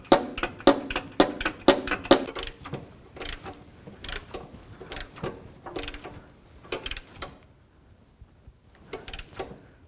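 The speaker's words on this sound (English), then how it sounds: "Use your 1-inch socket with ratchet. It's going to take a little while, but just turn it right in there." Ratchet clicking as it turns a 1-inch socket on an oil cooler line adapter of a 1992-99 GMC K1500, rapid bursts of close, loud ratchet clicks followed by slower, sparser clicks.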